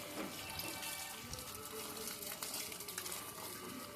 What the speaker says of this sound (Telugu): ఇప్పుడు వాటర్ పట్టేద్దాము